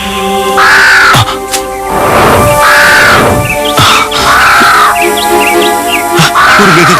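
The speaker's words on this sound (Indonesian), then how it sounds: "Burung gagak raksasa itu?" A giant crow in a forest gives loud, harsh caws close by, several drawn-out calls repeating at regular intervals with smaller chirps between them.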